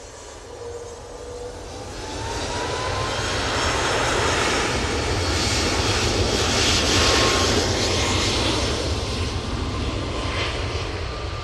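A KLM airliner on approach to Manchester Airport builds into a loud, broad jet roar that swells and holds steadily as it passes close overhead, heard alone without voices.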